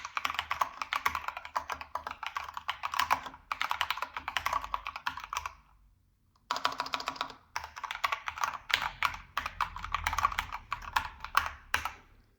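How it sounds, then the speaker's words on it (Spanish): Rapid, muffled keystrokes of an Epomaker EP64 hot-swap 60% mechanical keyboard typing in bursts, soft and dampened, with a short pause midway before typing resumes. "afecta a la experiencia de uso del teclado, que cuenta con un sonido muy amortiguado"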